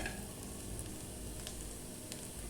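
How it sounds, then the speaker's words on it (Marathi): Dry grated coconut sautés in a little oil, giving a soft continuous sizzle throughout, fairly quiet and close, with a few faint crackles and light stirring scrapes. "सुक खोबरं आणि ते आपल्याला आधी असं परतून घ्यायचंय"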